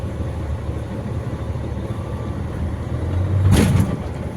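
A truck trailer head reverses under steady engine idle, then a single loud clunk near the end as it locks onto the trailer, close and alone without talk.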